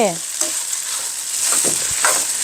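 Rice sizzles and fries in a pan for Lao-style fried rice, with a steady close hiss broken by a few scraping stirs and short bursts of louder crackle.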